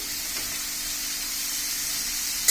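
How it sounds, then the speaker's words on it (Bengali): Tomatoes sizzle in hot oil as a loud, steady, broadband hiss that runs unbroken throughout, ending with a small clack. "এখন এর মধ্যে আমরা টমেটোগুলো দিয়ে দেব"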